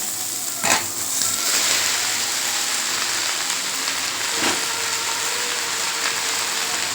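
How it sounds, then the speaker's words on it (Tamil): Drumstick leaves fry with sautéed onions in hot oil in a pan, giving a steady loud sizzle, with a couple of sharp clanks from stirring breaking through the constant hiss. "இப்போ கீரையை போட்டுக்கலாம்"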